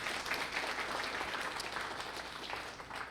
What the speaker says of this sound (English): Can we give Sunil a big round of applause?